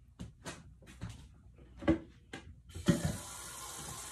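A few clinks and knocks of kitchen handling come first, then a cold tap opens and water runs steadily into a two-quart pitcher, a continuous close hiss for the last second or so.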